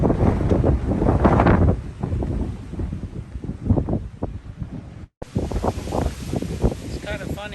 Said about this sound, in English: And it is windy up here.